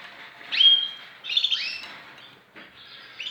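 Canaries in a breeding cage chirp and trill in short bright bursts, fairly close and clear, with brief pauses between phrases.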